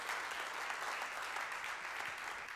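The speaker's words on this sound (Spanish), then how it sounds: "Denle un fuerte aplauso al Rey de la Gloria." Congregation clapping at a men's church retreat, a uniform, sustained patter of many hands heard at a distance and fairly quiet, with no voices standing out.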